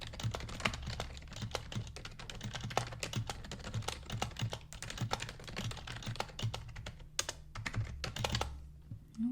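Fingers type on a computer keyboard in a soft-spoken customer survey role play, a close, quiet patter of rapid irregular key clicks running continuously with brief pauses and a few heavier strokes.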